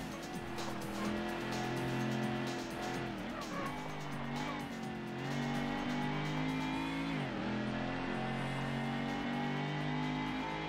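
Ford Mustang race cars from the Ford Racing video game roar continuously at high revs, engine pitch rising and dipping through gear changes and braking, loud and close with the occasional tire squeal.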